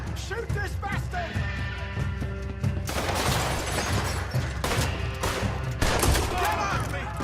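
Gunfire in the Red Dead Redemption 2 video game: dense, loud bursts of shots and rapid volleys crackle almost continuously, with voices shouting over the shooting.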